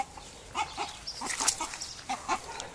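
Agitated chickens and a rooster being chased in a Hungarian garden cluck and squawk in short bursts at moderate distance, with scattered scuffling sounds as the birds scramble about.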